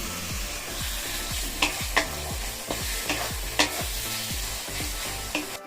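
Masala paste and potatoes hit hot oil in a pan, giving a steady close sizzle and frying hiss while a spoon scrapes and stirs in a repeating rhythm. Sharp clinks from the spoon against the pan punctuate it. No one speaks.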